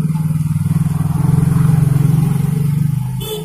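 A Honda Supra 100 cc motorcycle engine runs close by with a steady, pulsing low chug. It holds for about three seconds and then eases off.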